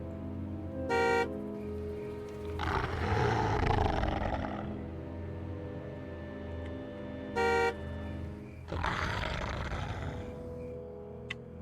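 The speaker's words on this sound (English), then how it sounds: "Maybe if I honk twice." Two short, bright car horn honks several seconds apart, each cutting in loud and clear, with long rumbling roars filling the gaps between them.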